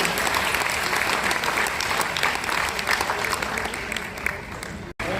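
A large auditorium audience applauds steadily and loudly throughout, a dense wash of clapping that holds until a brief dropout near the end.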